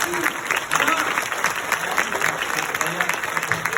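Dense, steady applause from a theatre audience at a Les Bodin's comedy show in Flers, with loud, continuous clapping that fills the whole stretch without a break.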